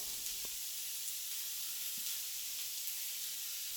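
Chopped onions sautéing with salt in a hot pan give a steady, soft sizzle throughout, with a couple of faint stirring taps and no voices.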